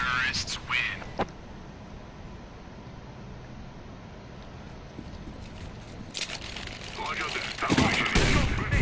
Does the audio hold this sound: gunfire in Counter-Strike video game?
yes